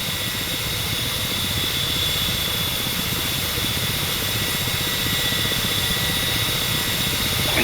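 A simulated Ka-50 Black Shark coaxial helicopter hovers in the DCS flight game, giving a steady loud turbine whine over a dense rotor rumble that continues unchanged throughout.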